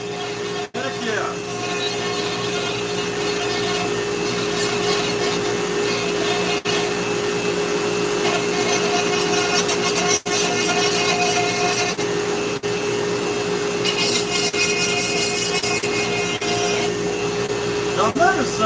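A Dremel rotary tool carves a wooden bald eagle head, giving off a steady, loud high-pitched whine that runs continuously with a few brief dips.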